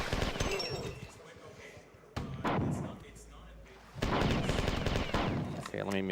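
Gunfire in the video game Marathon Infinity, several loud close blasts with sharp onsets and rumbling decays, separated by quieter stretches.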